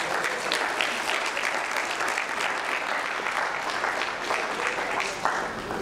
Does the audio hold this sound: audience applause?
yes